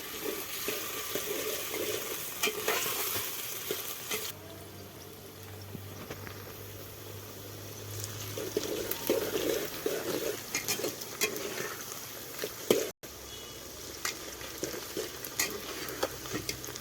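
Onion and garlic fry in oil in a pot on a mud stove, a soft, continuous sizzle with intermittent stirring scrapes and light bubbling, nearby and fairly quiet, with no talking.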